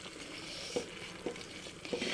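Ragi porridge with rice is stirred as it cooks, a close steady simmering hiss broken by three spoon scrapes against the pot. No voices are heard.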